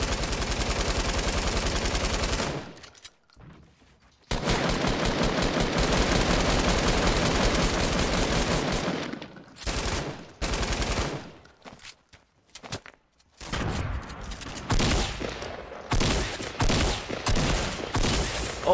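Gunfire in the Fortnite video game, with long loud bursts of rapid automatic fire broken by short pauses, then quicker scattered volleys near the end, with no talk over it.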